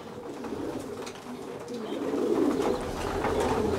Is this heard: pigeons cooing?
yes